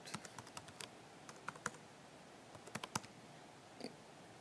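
Quiet keystrokes on a computer keyboard, with irregular bursts of crisp clicks separated by short pauses, close by and soft, with no voices.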